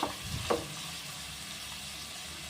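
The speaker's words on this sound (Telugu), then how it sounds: "శనగపప్పు వేసుకున్న తర్వాత కలుపుకొని ఒక 1 మినిట్ ఆయిల్లో ఫ్రై చేసుకోండి" Chana dal and cauliflower frying in hot oil, a steady soft sizzle with a couple of stirring knocks at the start, then an even hiss alone.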